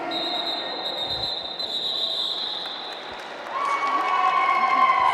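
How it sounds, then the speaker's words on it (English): Crowd applause and cheering in a sports hall at a roller derby bout, steady and broad throughout, swelling louder in the last couple of seconds, with a sustained whistle-like tone running over it. "A massive round of applause there for Kapow from Roller Derby Leicester"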